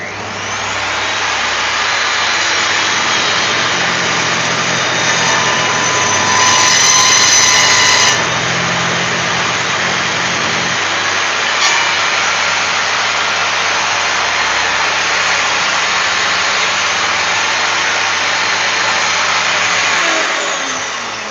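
Corded power saw cutting boards for cutting boards runs loud and continuous up close with a steady motor whine, bogging slightly mid-cut and then carrying on to the end.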